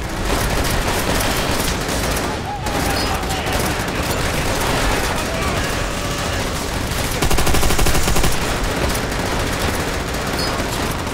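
Sustained machine gun fire and scattered gunshots from the Call of Duty: World at War video game battlefield, dense and continuous over a constant roar of combat noise, with a brief lull early and a louder burst near the end.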